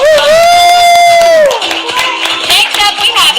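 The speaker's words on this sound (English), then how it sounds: "let's give her another big round of applause" Clapping for a child at a church vacation Bible school, loud and close, starting under a sustained sung or shouted note, then continuing as scattered claps mixed with voices.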